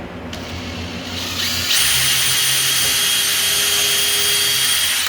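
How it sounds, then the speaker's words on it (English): A power drill pre-drills into wood trim, its motor rising in pitch and then holding a loud, steady high whine before cutting off. "Then I'm going to pre-drill it."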